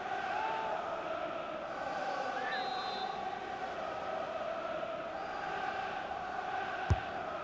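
A stadium crowd at a Fulham vs Tottenham Premier League match in FIFA 23 keeps up a steady, distant roar. One sharp thump near the end cuts through, and commentary runs over it.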